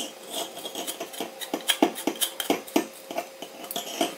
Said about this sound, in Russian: мы берем, просто вкручиваем переходничок.